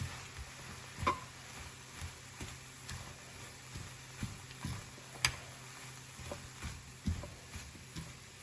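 Leeks, carrots, beans, egg, mutton and onion sautéing in a pan for mutton fried rice, a steady low sizzle under regular spatula scrapes and taps.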